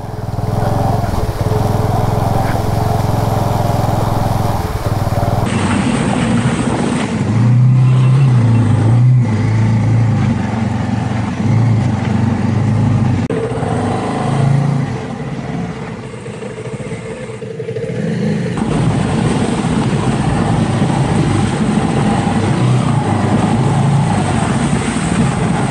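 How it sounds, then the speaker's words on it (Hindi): A cruiser motorbike rides off-road along a rough village track in Hoshiarpur, Punjab, its engine droning steadily and loud up close for the whole stretch, with shifting rumble and wind and road noise and a brief dip partway through. "क्रूजर बाइक पे एडवेंचर कर रहा हूँ मैं।"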